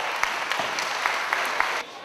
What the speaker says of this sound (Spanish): Licenciado Carlos Barrera, a quien pido un aplauso.